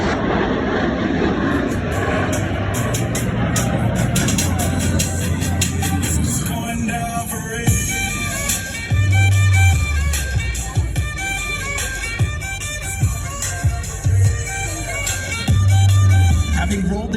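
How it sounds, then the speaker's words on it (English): Blue Angels jets come in toward the flight line at high speed during the MCAS Miramar airshow 2024, a loud roaring rumble that swells and fades, with crowd noise and an announcer's voice over it. "Behind the spectator area, Blue Angels 5 and 6 are approaching the flight line at 400 miles per hour."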